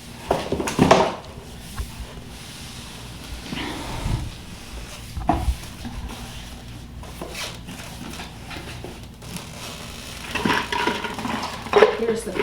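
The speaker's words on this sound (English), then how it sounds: "See if I can wiggle it out." A new kitchen machine being tipped on its side and wiggled out of its box: cardboard and packing rub, scrape and thump in irregular bursts, close and fairly loud, with a few louder knocks.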